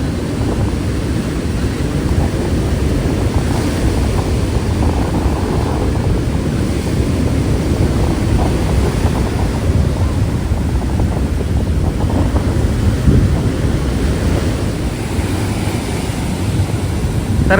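Rough monsoon sea waves surge and crash against the temple steps on the Ganpatipule shore, a loud continuous roar with rolling swells and wind buffeting the microphone, no voices.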